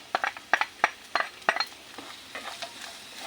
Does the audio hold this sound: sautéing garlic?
yes